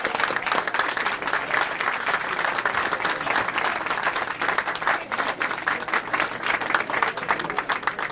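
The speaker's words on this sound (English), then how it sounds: "give yourselves a big round of applause" A roomful of Democratic State Party members applauds, dense steady clapping that holds loud and even for about eight seconds without a break.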